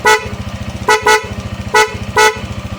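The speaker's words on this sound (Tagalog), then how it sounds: "Kanyang loud horn na may passing." A newly installed PIAA dual-contact car horn honks four times in short blasts, loud and close, over a steady rhythmic engine idle.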